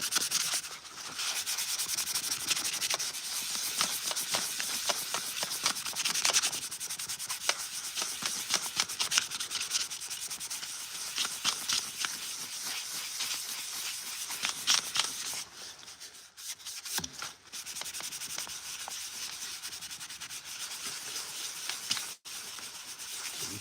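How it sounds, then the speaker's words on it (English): A cracked spot on a painted clone trooper helmet is sanded by hand with 400-grit sandpaper, a steady close scratchy rubbing of rapid back-and-forth strokes, with short pauses partway through and no talking. "Basically just got to sand that crack away."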